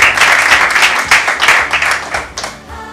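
Close, lively applause from a small group clapping hands in steady bursts, which gradually thins out and ends after a few seconds.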